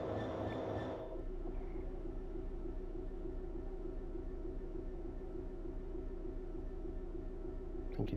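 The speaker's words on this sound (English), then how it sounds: "The train's just departing, and it is a 90 mile an hour unit" Train departing in Train Sim World 3, a 90 mph unit on a London commuter line: a steady low rumble and rolling hum builds after a short burst of noise and continues evenly throughout.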